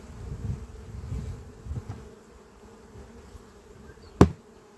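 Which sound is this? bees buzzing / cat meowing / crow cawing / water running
bees buzzing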